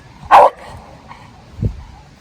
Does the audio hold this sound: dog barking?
yes